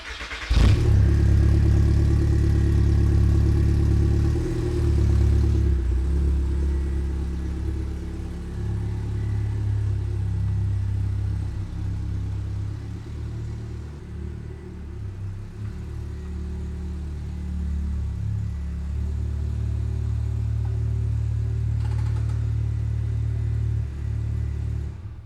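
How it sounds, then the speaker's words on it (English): A car engine rumbles low and steady as the car is slowly driven out of a garage, idling and creeping along with occasional revs, close by and continuous. "So I'm gonna pull the car out."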